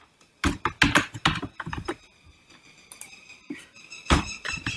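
Bursts of computer-keyboard typing during a C# coding session in Visual Studio 2019, clusters of quick close keystrokes with a quiet pause in the middle before a final short burst.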